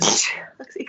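A single sharp sneeze bursts out loudly during an indoor conversation, and the breathy release fades into a brief murmured voice.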